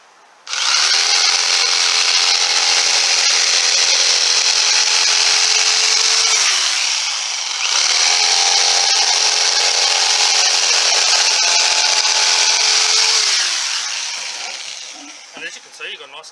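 A jigsaw cuts through wood during a Pajero camper rebuild, making a loud, continuous buzzing whine in two long passes with a brief dip between them, then winding down.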